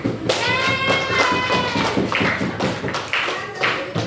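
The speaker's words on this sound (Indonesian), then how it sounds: "Kita beri tepuk tangan." Students in a classroom clap to appreciate a group presentation, a close, steady patter of many hands that rises and falls over about four seconds, with faint voices underneath.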